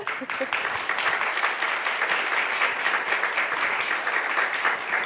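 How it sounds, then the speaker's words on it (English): Steady, enthusiastic applause from an audience closing a fireside chat panel on neurodiversity, many hands clapping in a dense, continuous wash from start to finish. "Big round of applause, guys."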